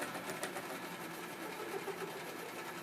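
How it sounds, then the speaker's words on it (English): A lathe turns a cannon barrel, taking an uneven cut that sets up a steady, loud whirring rattle with constant vibration throughout and no voices. "the reason it's taking an uneven cut right now, that's why we're getting the vibration or the noise"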